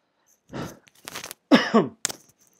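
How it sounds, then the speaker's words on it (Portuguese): A single small cough rings out close and clear in a quiet room during a math lesson, followed by a short breath or throat sound. "É uma tossidinha."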